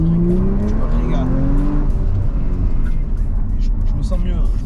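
An Audi RS4 ABT-R accelerates hard, its engine note rising loud and close throughout, with people talking over it inside the car.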